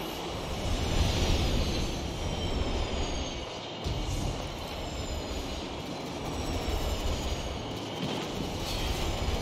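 A train rushes past in the video game Destiny 2, a loud, sustained rumbling roar with high metallic whines over it, briefly dipping midway before surging again.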